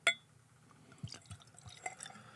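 Eagle Rare 10-year Kentucky straight bourbon is poured into a glass, opening with a sharp glassy clink followed by soft, quiet trickling and small drips of liquid.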